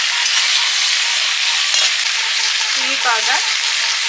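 Prawns and taro frying with spices in a pan, a steady loud sizzle with stirring scrapes throughout; a voice speaks briefly over it.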